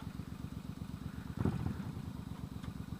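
Bobber motorcycle engine running with a steady rapid low thrum, briefly swelling and clattering mid-clip as it downshifts, then settling back to an even idle-like pulse.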